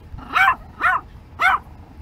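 Three sharp, close barks from a Yorkshire Terrier, evenly spaced about half a second apart over a faint low background.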